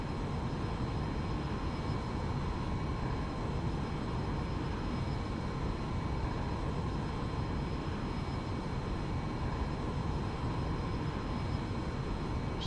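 Steady, droning engine noise of an aircraft flying in the X-Plane 11 flight simulator on a short flight from KPHL to KMIV, an even, unbroken hum with a faint high whine throughout.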